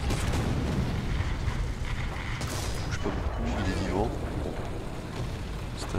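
Cannon fire from an AMX 13 tank in War Thunder, a heavy boom with rumbling decay under a dense battle din, loud and close.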